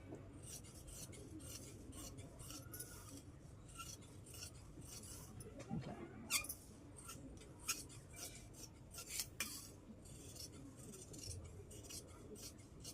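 Scissors cutting through fabric lining, a series of soft crisp snips and rasping rubs close by, irregular and fairly quiet, with brief handling noises between cuts.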